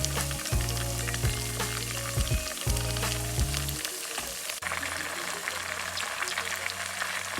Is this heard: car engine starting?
no